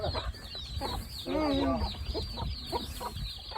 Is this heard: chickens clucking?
yes